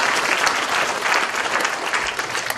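Loud, dense clapping from a crowd at a committee launch ceremony in Seongju, sustained and close throughout with no pauses.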